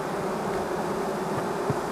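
Honeybees buzz densely inside an open hive, a continuous close hum with no pauses and no voices over it.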